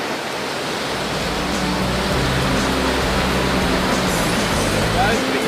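Ocean surf on a beach foreshore while a net is swept back and forth through the surf zone: continuous loud, close broadband wash of breaking water with no gaps.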